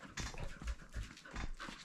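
A dog pants and snuffles close by in a home, with quick rhythmic breathy bursts and no talking.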